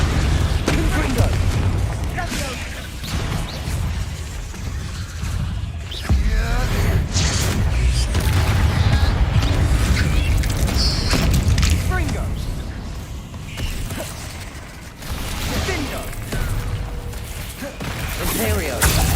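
Confringo fire-blast spells explode during combat in Hogwarts Legacy on PS5, repeated booms and bursts over a busy battle din, with game voices heard throughout.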